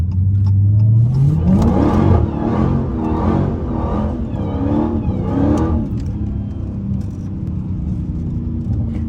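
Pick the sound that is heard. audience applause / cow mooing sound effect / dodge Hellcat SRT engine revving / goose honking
dodge Hellcat SRT engine revving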